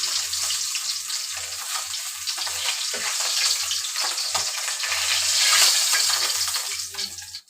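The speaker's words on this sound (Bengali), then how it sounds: "আমি এবার এই মাছের তেলের মধ্যে আলুগুলো ভেজে নেব" Potatoes sizzle in oil left over from frying small bile fish, making a loud, continuous crackling hiss with a faint low hum running beneath.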